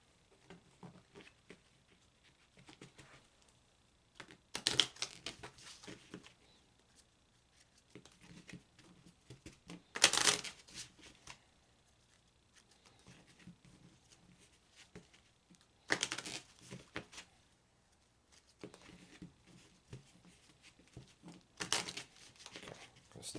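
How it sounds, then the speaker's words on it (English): Repeated bursts of crisp riffling of an oracle card deck, each a second or so long, separated by quieter handling and faint shuffling noises, close up with no talking. "I'm going to shuffle."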